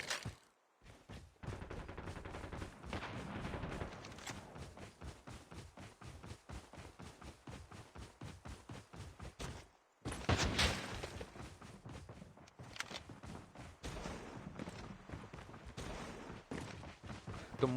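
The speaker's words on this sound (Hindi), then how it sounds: "तो तभी मेरे को आगे से फायरिंग की आवाज़ आ रही थी" Rapid automatic gunfire from a Call of Duty Mobile battle royale match crackles in dense, repeated bursts, loud and near, with a brief pause near the middle before the shooting resumes.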